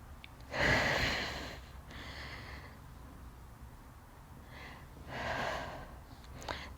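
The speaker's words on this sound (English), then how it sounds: "Let's carry on, breathing in," Deep breathing during a postpartum core workout: two long, audible breaths with a softer one between them, close and breathy with no speech.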